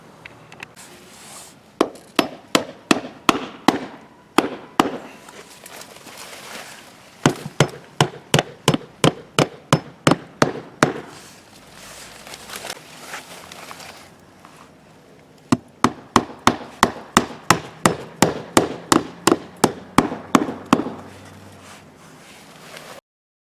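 Hammer blows nail wood siding pieces in a repair, falling in rapid runs of sharp, loud, evenly spaced strikes with short pauses between bursts, close by with no talk.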